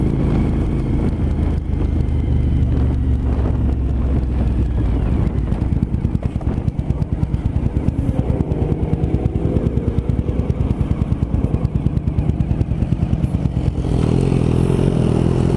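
A yellow Suzuki TL1000R motorcycle on the road, its engine a loud continuous drone with rapid pulsing and rising revs, heavy wind rush throughout, and a shift in tone near the end.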